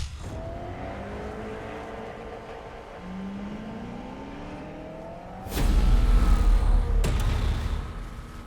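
Race car engine in the Need for Speed video game on a circuit race, a steady droning hum with a rising whine, then a louder burst of revving and roaring near the end.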